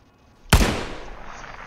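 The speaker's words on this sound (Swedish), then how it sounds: "Men skottet lär ha hörts." A single gunshot in the tactical shooter game Ground Branch: one sharp, loud crack that snaps in suddenly, then a reverberant tail fading over about a second, with nothing else around it.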